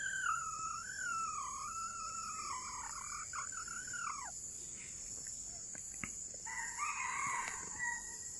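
A chicken crows outdoors near an oil palm plantation by a forest and river, a long faint warbling crow followed later by softer clucking, over steady insect and frog chorus.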